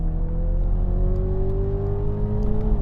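Toyota Supras, a new 90-series and an older 80-series twin-turbo with a 2JZ engine, accelerate hard in a rolling drag race; a sustained engine drone with a rising pitch climbs steadily, loud and close, with no talking.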